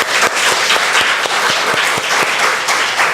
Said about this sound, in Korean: 자 먼저 우리 하나님 앞에 영광의 박수를 올려드리십시오